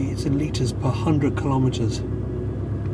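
A Porsche 928 engine runs with a low, throaty rumble, steady and fairly close, while someone talks over it throughout.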